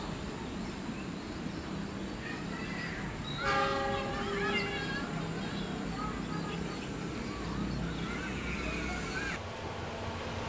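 A Siliwangi passenger train passes near Cilaku station with a steady, loud rumble throughout, and a brief horn blast sounds partway through.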